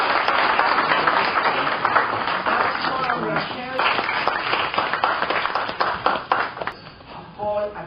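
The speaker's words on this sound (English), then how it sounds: "Let's give him a round of applause." Audience applause for a speaker at a tribute event for Ambassador Dudley Thompson, brisk clapping of many hands that carries on with voices talking over it, tapering and growing sparser near the end.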